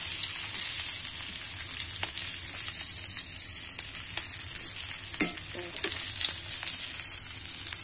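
Food sizzles in a frying pan with a steady close hiss, broken by repeated scraping and clinking strokes of a utensil stirring it, one sharper knock standing out near the middle.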